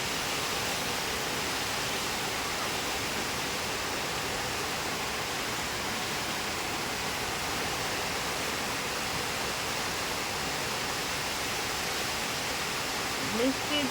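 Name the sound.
rain falling with wind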